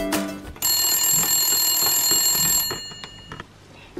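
A toy telephone gives off a loud electronic ring, a bright sustained trill lasting about two seconds before cutting off, then a few faint clicks and handling noises follow in a quiet room.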